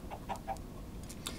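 Chickens cluck in a video game, several short soft clucks scattered through a quiet, steady background with no talking.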